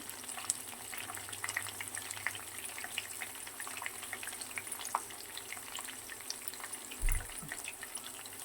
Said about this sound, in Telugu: ఇప్పుడు కొంచెం కరివేపాకు వేసుకుంటాం వాటిలో కొంచెం ఇంగు వేసుకోవాలండి